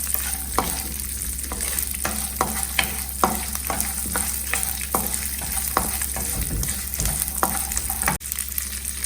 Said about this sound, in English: saute it nicely.